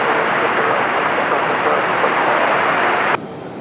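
A jet airliner roars down runway 23 right at Raleigh-Durham International Airport on takeoff, a loud, steady, broadband engine rush that holds level throughout and drops off sharply in the final half second.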